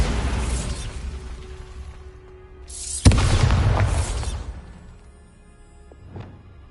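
A Bombarda blasting spell goes off in a video game: a sharp loud boom with crackling debris and a rumbling tail, followed by a smaller pop and whoosh as it fades.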